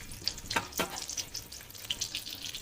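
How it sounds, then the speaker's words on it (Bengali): Catla fish fingers frying in hot oil, a close, lively sizzle with crackling pops and a couple of sharper spits, short and continuous with no voices. "ভালো করে ভেজে নেবো ফিশ ফিঙ্গারগুলো"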